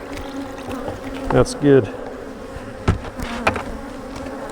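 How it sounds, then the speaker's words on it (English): Bees buzz close by in short passes, their hum rising and fading around a steady background, with a brief spoken remark. "it's hard to keep the bees out of it"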